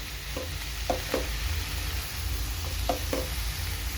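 Tomatoes and onion softening in oil in a pan, a steady soft sizzle with a few faint stirring scrapes, close and continuous with no talk.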